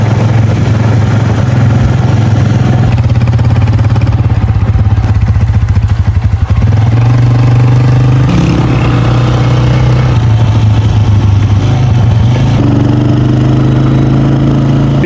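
A motorcycle engine runs loud and close after a tyre puncture repair in a Neelum Valley village. It idles with a steady throb and its revs shift up and down a few times midway.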